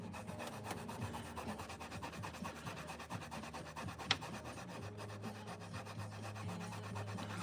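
Quiet, rapid back-and-forth rubbing as guitar frets are polished, a soft, steady rasping scrub with one brief tap partway through.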